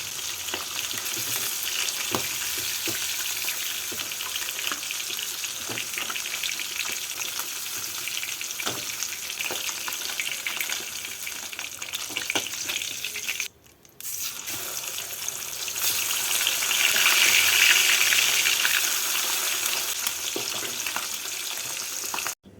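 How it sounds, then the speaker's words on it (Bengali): Fish heads fry in oil in a kadai, giving a continuous close sizzle and crackle with a brief break partway through before the frying resumes louder. "এইভাবে বাকি মাথাগুলোকেও ভেজে নেবো"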